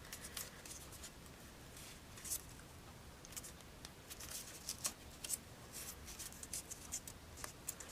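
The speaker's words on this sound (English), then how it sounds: "you just accordion, fold, back and forth" Sheets of paper for a pleated rosette flower crinkle and crease as they are accordion-folded back and forth, a run of soft, quiet rustles and snaps close by with no talk.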